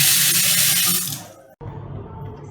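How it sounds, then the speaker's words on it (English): Fresh water gushes loudly from a tap over soaked rice and urad dal for idli batter, a bright steady splash that fades out, briefly cuts, then resumes as a softer running trickle. "So now I am going to take fresh water."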